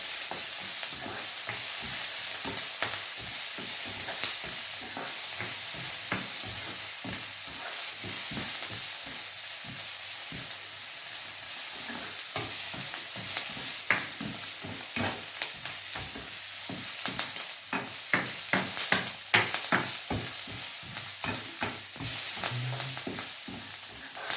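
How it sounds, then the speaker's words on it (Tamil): Crushed garlic is stirred into a sizzling frying-pan mixture. A spoon scrapes the pan in quick repeated strokes over a constant close frying hiss, with no voices. "உள்ளி போட்டுக்கிறோம், சேர்த்து மிக்ஸ் பண்ணுறோம்."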